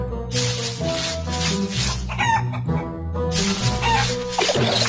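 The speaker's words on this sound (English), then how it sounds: "The haystack is moving! And clucking! Maybe it's Chicoletta" A cartoon chicken clucks and crows from a haystack in a PAW Patrol video game, loud, busy clucks repeating over steady game music.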